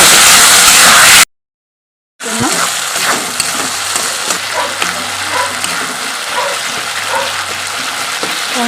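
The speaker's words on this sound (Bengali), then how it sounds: "মশলাটা ভাজছি আবার ভালো করে" Spice paste for chicken kosha fries loudly in a pan with a dense, crackling sizzle, broken by a brief silent gap, then continues with scattered stirring knocks.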